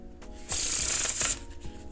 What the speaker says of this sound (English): Do the shuffle, and now you can show them